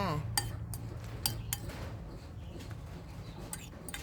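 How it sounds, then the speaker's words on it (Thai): A frying pan set down on a home kitchen stove while cooking fried rice, giving several sharp metallic clinks and clatters spread through a quiet background. "ขั้นตอนต่อไปตั้งกระทะเลยจ้า"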